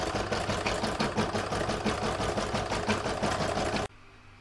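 A sewing machine runs steadily and quite loud, stitching the second round on a quilted fabric seashell, a fast even whirr with rapid needle pulses that stops abruptly near the end.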